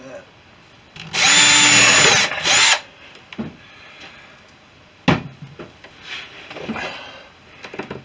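A power drill bores 3.5 mm holes through the side window panel of a Sherwood Kub with a blunt bit, giving one loud whine of about two seconds. Brief clicks and clunks follow, with a short sharp knock partway through.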